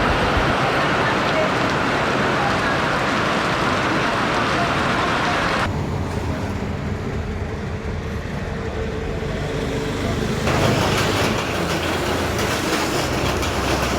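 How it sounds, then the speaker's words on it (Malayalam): Heavy rain during a stop on a trip to Valparai, a dense steady hiss that fills the whole clip, with a low rumble and a brief quieter stretch in the middle before the downpour swells again. "നല്ല മഴ കേട്ടോ, ഒരു രക്ഷയില്ല."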